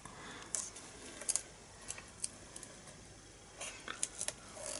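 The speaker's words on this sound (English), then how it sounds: "I'm just going to get my snips" Metal snips cutting mosaic tiles, a few sharp, faint snips and crisp clicks spaced irregularly over a quiet background.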